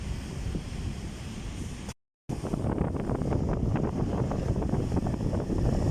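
Steady roar of rough sea waves in Manila Bay and wind buffeting the microphone, continuous and loud, with a brief dropout partway through.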